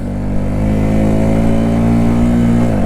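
A barn-find Honda CB125S motorcycle engine idles high with a fault in the throttle, a loud, steady, close mechanical drone holding one pitch before dipping slightly at the end.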